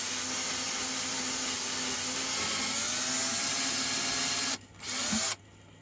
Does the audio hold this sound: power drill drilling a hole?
yes